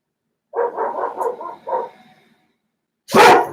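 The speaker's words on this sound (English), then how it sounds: "Apologize for the dogs barking." Dogs bark indoors during a yoga session, a quick close burst of several sharp barks followed by a single bark, then a brief pause before a loud rough outburst.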